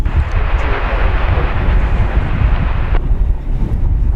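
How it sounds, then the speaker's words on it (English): An American Airlines Airbus A319, about nineteen years old, roars steadily as a loud broadband jet rumble at an airport, with wind buffeting the microphone throughout and the high hiss dropping away near the end. "Maybe we'll watch Flight 1803, American Airlines and Airbus A319 going to McAllen, Texas"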